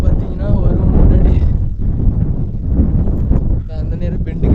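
Strong wind on Kondarangi hill buffets the microphone in a steady low roar, with gusts rising and falling and voices talking faintly underneath.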